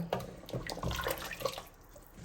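Hot water splashes and gurgles as it is poured into a pressure cooker for biryani, fairly close and irregular, with no talking.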